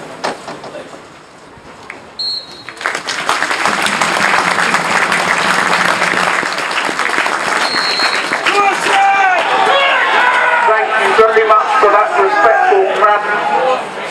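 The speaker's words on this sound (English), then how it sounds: "there will now be a minute's applause in remembrance of Terry Archer, Bill Archer's brother" A football crowd at Dartford v Chelmsford gives a minute's applause in remembrance, starting after a brief quieter moment and swelling into sustained, dense clapping that carries on evenly to the end.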